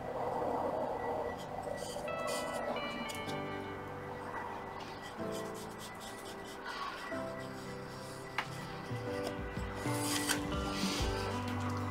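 Sanding back the stern of a wooden Caldercraft HMS Victory model ship along the beading line, a steady close rubbing and rasping texture running continuously with slight variations in stroke.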